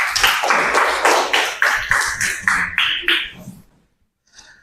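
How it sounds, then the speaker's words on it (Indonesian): A classroom of students clapping hands together in rhythmic bursts, loud and near, about a dozen synchronized claps in a patterned sequence before stopping, followed by a faint trailing sound. "Oke, tepuk tangan."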